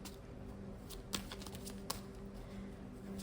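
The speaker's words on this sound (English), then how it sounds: "I apologize for the loud shuffling" Tarot cards are shuffled loudly during a pick-a-card reading, a soft ongoing patter of riffling and tapping with a few sharper slaps, close and fairly quiet over a faint steady hum.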